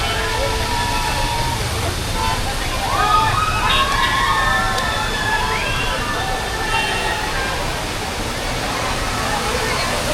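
Malshej waterfall roars steadily throughout, a broad continuous wash of rushing water, while a crowd's voices chatter and call out faintly over it.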